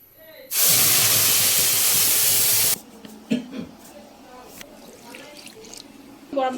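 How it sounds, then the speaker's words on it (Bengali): A blended paste of green chili, poppy seed and onion hits hot oil in a pan with a sudden loud, roaring sizzle that holds for about two seconds, then drops to a low crackle with scattered clinks and some talking. "আজকে কাঁচামরিচ পোস্তা আর পেঁয়াজ একসাথে ব্লেন্ডার করেছি তো এগুলো দিয়ে দেবো"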